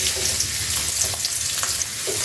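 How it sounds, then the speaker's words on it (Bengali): Chopped garlic and onion fry in oil over a wood-fired stove, a loud, dense, unbroken sizzle with faint crackles throughout and no voices. "রসুন কুচি আর পেঁয়াজ কুচিটা ব্রাউন করে ভাজতে হবে"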